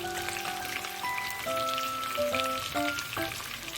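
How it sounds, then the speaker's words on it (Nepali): Chopped onions go into a pan of frying chicken for a chicken curry, producing a dense crackling sizzle that holds steady throughout, close by, with faint tonal background sounds and no talking. "अब म यसमा प्याज यसरी हाल्नेछु"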